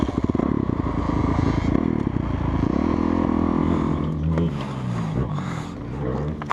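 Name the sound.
motorcycle on a muddy motocross track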